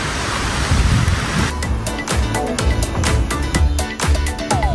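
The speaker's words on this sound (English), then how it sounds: "This is Kehena Beach." Surf at Kehena Beach on the Big Island of Hawaii, a broad steady wash of waves heard from the clifftop, mixed with rough wind buffeting and intermittent rattling taps, loud and continuous throughout.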